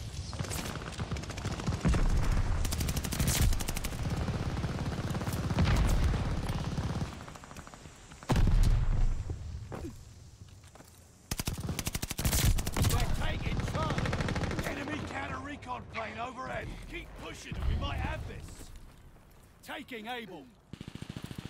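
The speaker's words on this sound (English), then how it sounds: "I'm getting shot through the wall." Gunfire in a Call of Duty: Vanguard multiplayer match, repeated sharp bursts and shots coming through a wall, loud and dense with pauses, mixed with game noise and a player talking.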